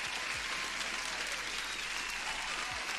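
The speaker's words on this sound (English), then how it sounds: "Applause for Rodrigo, guys." Applause from a crowd plays as a steady, even wash of clapping, faint overall and continuous for about three seconds without pauses.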